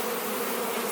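Bees buzzing continuously around a beekeeper at a homemade top bar hive during installation, a steady close drone with no talk.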